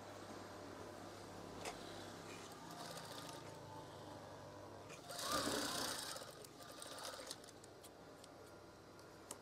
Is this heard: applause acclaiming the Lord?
no